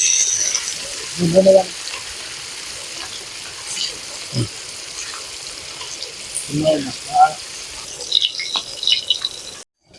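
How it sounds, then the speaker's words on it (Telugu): Murrel fish frying in hot oil in a pan, a steady soft sizzle underneath with a few louder bursts of crackling and scraping, close by, while a person speaks over it at times. "ఆయిల్ పోసుకొని మంచిగా ఎర్ర కాల్చుకుందాం ఇక మన చేపల్ని"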